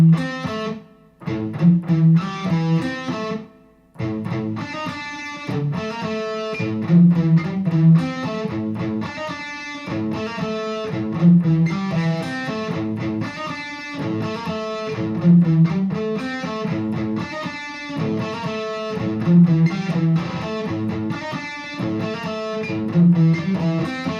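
Distorted electric guitar chugs through the Metallica "Seek and Destroy" riff alone, a loud, steady palm-muted pattern with short repeating phrases and brief gaps between bursts.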